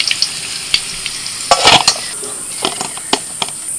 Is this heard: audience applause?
no